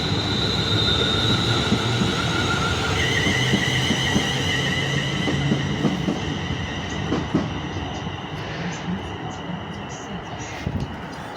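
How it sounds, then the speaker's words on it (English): A West Midlands Railway class 350 electric train pulls away from a station platform at Aston, its traction motors whining and rising in pitch over a steady rumble of wheels that stays loud and close throughout. "350261 departs with the slightly delayed 1227 West Midlands Railway service from Walsall to Wolverhampton"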